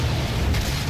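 A single deep shot fired in the Doom video game, a heavy low boom spread across the short moment, loud and close with no voices.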